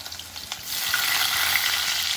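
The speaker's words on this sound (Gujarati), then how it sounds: "એટલે આપણે ડાયરેક્ટ આ ડુંગળી નાખીશું" Onion frying in a pan for Gujarati stuffed okra, a steady loud sizzle that swells after a few faint stirs at the start, with no voices.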